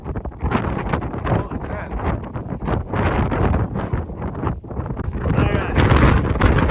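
Strong, gusting wind on the Skye Trail roars across the microphone in a constant heavy rush, while a hiker exclaims briefly over it.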